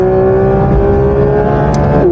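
Porsche 992 GT3 RS driven flat out at Spa, with a loud, steady, high-pitched engine wail held close from inside the car and a brief shift in pitch near the end.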